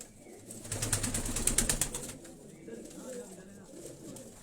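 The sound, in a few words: pigeon held in hand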